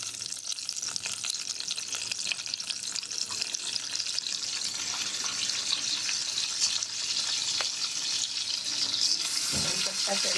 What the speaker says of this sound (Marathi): भरले वांगीला मी फोडणी देते बाळा. आणि त्याच्यासाठी आपण थोडा कढीपत्ता टाकतोय प्रथम.